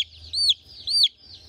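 Silkie chicks at a feed store give two short, clear rising peeps, close and fairly faint over a quiet low hum.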